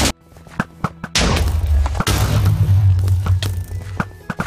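Minecraft explosions boom out in video game audio: a couple of loud, broadband blasts with deep rumbling tails, the first cutting in suddenly and a second hitting soon after, preceded by scattered light clicks.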